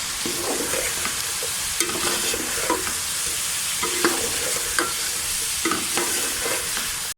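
Chopped capsicum and black pepper stir-frying in a pan for chicken white sauce pasta, a steady close sizzle with repeated scraping stirs throughout.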